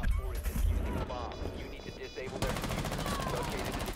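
Rapid video-game gunfire with many bullets hitting a ship, a dense, loud stream of automatic shots under excited voices.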